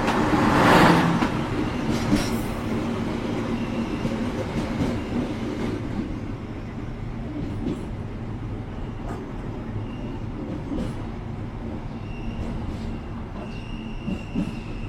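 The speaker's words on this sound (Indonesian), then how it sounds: "Sekarang kereta api Jayabaya melintas langsung di stasiun Wonokromo ya teman-teman." Jayabaya passenger train running straight through Wonokromo station without stopping, a loud steady rumble of wheels on rail with brief squeals and clicks, strongest at the start and holding on as the cars roll past close by.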